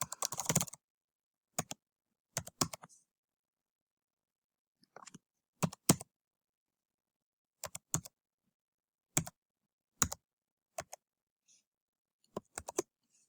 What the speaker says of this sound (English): you'll type in your username